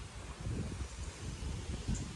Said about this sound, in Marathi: आता पण बघा एकदम वारा बिरा चालू झालेला आहे बघा